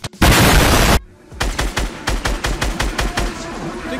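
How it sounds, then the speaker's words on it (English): A SCAR assault rifle firing in Fortnite, with a loud sustained burst up front, then a rapid string of about a dozen sharp close shots in a quick, slightly uneven rhythm. "I'm gonna use the scar, everybody."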